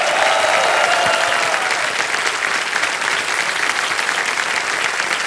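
A studio audience on a television quiz show claps loudly and steadily for a winning contestant, a dense unbroken ovation that runs the whole time.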